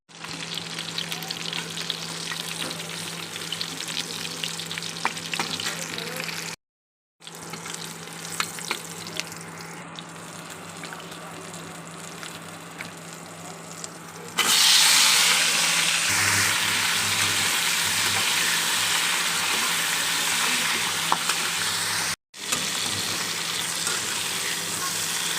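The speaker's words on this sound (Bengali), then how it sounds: "মাছটা আমি তাড়াতাড়ি করে ভেজে নেব" Fish frying in a hot pan, a loud, dense, unbroken sizzle close by, cut off by two brief silences and getting slightly brighter midway.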